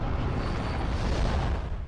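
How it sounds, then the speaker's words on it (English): A loud, sustained explosion rumbles in the video game Halo Wars, a dense low-heavy roar holding steady for about two seconds with no voices over it. "It's a nice looking explosion."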